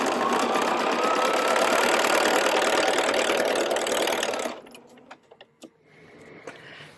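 A sewing machine runs steadily, stitching quilt pieces together with a quarter-inch seam, a loud continuous mechanical whir that stops partway through, leaving faint handling clicks and rustles.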